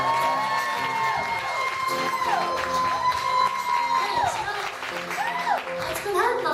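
Crowd clapping and cheering at a live acoustic show at Eddie's Attic after a guitar solo, steady applause with whoops and shouts running throughout, fairly close and full.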